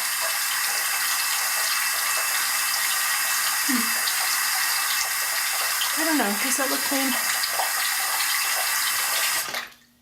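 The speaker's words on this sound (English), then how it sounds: "Probably couldn't hear me past the water rushing." Tap water rushes steadily and loudly while someone washes their face at a sink, a continuous broadband stream that stops abruptly at the end, with a person speaking briefly over it.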